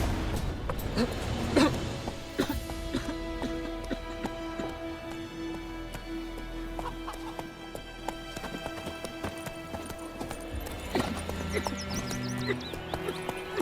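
Hooves of Geralt's horse Roach clip-clop in The Witcher 3, a steady trotting rhythm close by, with occasional snorts and game ambience and music tones layered underneath.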